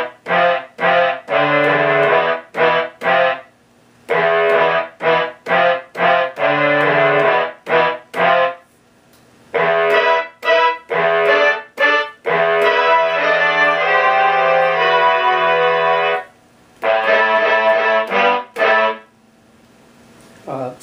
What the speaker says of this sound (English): this is the brass ensemble